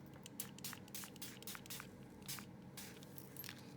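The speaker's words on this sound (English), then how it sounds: "I'm just giving it a little shake, and I'm going to spritz it." A spray bottle spritzing shimmer paint mixed with rubbing alcohol: several short, soft hissing bursts in an uneven rhythm, faint and close, with no voices.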